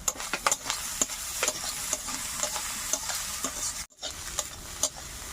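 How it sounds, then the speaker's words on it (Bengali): Prawns fry in a pan with salt and turmeric, a constant crackling sizzle punctuated by sharp spatula scrapes and taps, with a brief pause in the middle before it resumes. "তো একটু লবণ দিয়ে দেবো, হলুদ দিয়ে দেবো, দিয়ে আমি আর একটু ভাজা ভাজা করে নেব"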